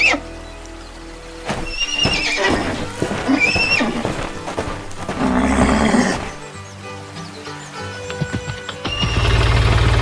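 A horse neighs and whinnies loudly near a wooden building, with snorts, clip-clop movement and rough farmyard noise throughout, and no voices.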